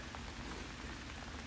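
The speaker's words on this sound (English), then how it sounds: "It's raining." Steady rain falls throughout, a dense continuous hiss of drops striking surfaces, with no voices.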